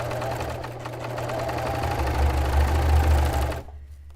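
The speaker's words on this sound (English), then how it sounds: "a serger will cut and finish the edge at the same time" A serger sewing machine stitches and trims the edge of bed-sheet fabric with a steady, loud mechanical whirring drone that builds slightly, then cuts off abruptly near the end, up close with no talking.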